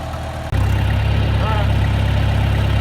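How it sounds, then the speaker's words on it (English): A tractor engine starts up partway through and settles into a loud, steady low rumble close by, with a faint voice briefly audible over it. "I'm on my tractor."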